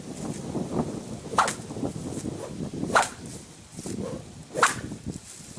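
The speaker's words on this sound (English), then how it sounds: "And then we have a whip. So let's see what he does with just the sound." A whip is swung through the air near a rescue mustang horse, three distinct swishing passes spaced a couple of seconds apart over rustling outdoor background noise.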